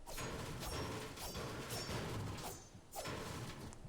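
Metallic clanking impacts of a Fortnite Black Panther claw hit effect on metal, with grinding, ratchet-like texture, a few sharp strikes in quick succession, close and fairly loud.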